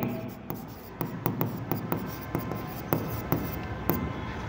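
A pen writes on paper close up, a quick series of scratchy strokes with short taps at regular intervals, over a faint steady background hiss.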